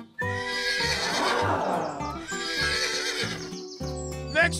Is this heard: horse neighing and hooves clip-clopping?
yes